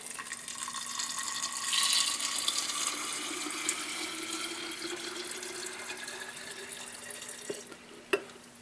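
Four cups of water poured steadily from a measuring vessel into a container for sanitizing sprouts, a continuous close splashing wash with a couple of sharper clinks near the end.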